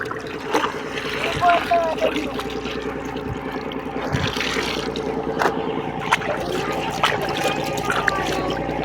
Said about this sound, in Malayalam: ആദ്യമായിട്ടാണ് ആറിൽ തുണി അലക്കുന്നു കേട്ടോ